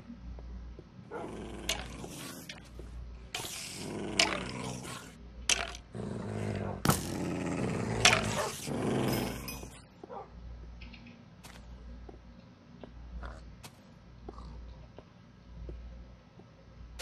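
A dog in Minecraft Xbox 360 Edition growls and barks in a cluster of loud, rough bursts, then falls away to sparse faint sounds, with people talking over the game.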